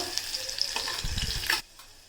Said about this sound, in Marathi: आता लसूण आपल्याला तेलामध्ये चांगलं परतवून घ्यायचं आहे लालसर होईपर्यंत।